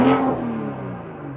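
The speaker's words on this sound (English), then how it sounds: "let's do a before swap rev" A BMW M340i exhaust with stock tailpipe tips barks in a short rev, a sharp rise then a fading rumble that trails off over about a second.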